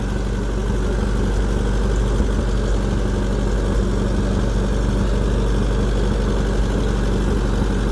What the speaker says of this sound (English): That's a really sweet tractor.